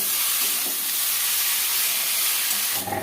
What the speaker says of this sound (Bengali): শাকটা দিয়ে আর একটু কষিয়ে নেব